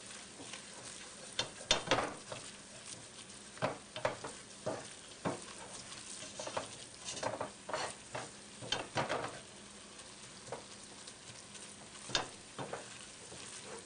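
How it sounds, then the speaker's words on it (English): A spoon scrapes and stirs sausage gravy in a hot, sizzling pan. The strokes are irregular and repeated, with a soft frying hiss running steadily underneath, heard close and alone with no talking. "Just stir it all up till it's all incorporated"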